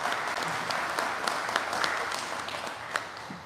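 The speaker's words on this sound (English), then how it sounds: "can we give Lucy in the Bell Center a huge round of applause?" An audience applauds Lucy at the Bell Center during a kickoff event for Erie County and Say Yes Buffalo summer camps, steady dense clapping from a large crowd sustained throughout without a break.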